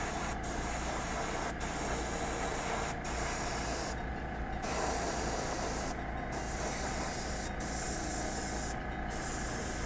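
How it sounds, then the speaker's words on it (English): Airbrush spraying with a continuous close hiss of air, briefly cutting out several times in short pauses before resuming. "we got to leave the airbrush going"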